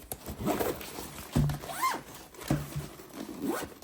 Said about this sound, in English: The zipper is really nice and strong.